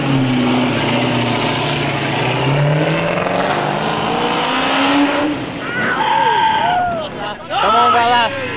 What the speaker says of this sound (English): Spin them up. Spin them up.